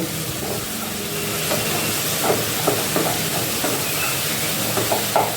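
Red chili powder fries in a pan with a steady, dense sizzle and occasional light stirring scrapes, continuous and fairly loud throughout, with no voices.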